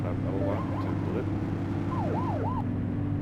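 A police car siren blipping in The Precinct video game, a few short rising and falling wails over a steady droning engine and city ambience.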